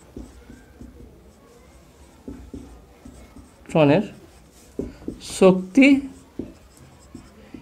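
Chalk or marker taps and scratches on a board during a quantum physics lesson, coming as faint scattered strokes between and under a teacher's speech.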